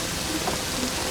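Steady rain falling in a disaster-movie storm scene, a dense, even hiss of drops throughout with no pauses and no voices.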